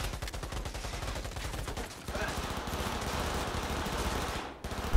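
Gunfire in Cyberpunk 2077: dense, rapid automatic bursts fire continuously and loudly for several seconds, then break off abruptly.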